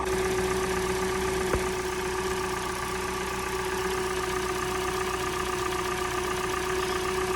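A high-mileage Hyundai car engine idling, a steady even hum held for several seconds, close and alone with one faint tap partway through.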